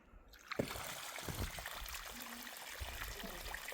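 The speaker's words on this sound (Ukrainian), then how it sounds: "Промиваємо, поки буде водичка йти чиста" Water trickles quietly and steadily from a pressure tank as sand is flushed out of it, a soft, faint flow with a few small splashes near the start.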